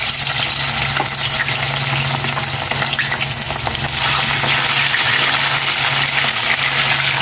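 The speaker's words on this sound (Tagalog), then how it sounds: "Unahin ko palang iprito itong bangus." Milkfish (bangus) frying in used cooking oil, a steady close sizzle and crackle running the whole time with no voices.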